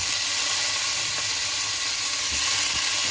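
Tomatoes dropped into a hot frying pan while cooking monggo with beef, giving a steady, fairly quiet sizzle with a few soft knocks and stirring clatters, no talking.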